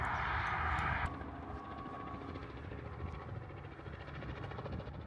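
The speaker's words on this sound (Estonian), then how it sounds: "Aga me nüüd vaatame, kes siit kopteri pealt tuleb." A helicopter arrives at a crowded fair, its engine and rotor drone loud and steady throughout, with a brief higher whine at the start before settling into a constant roar.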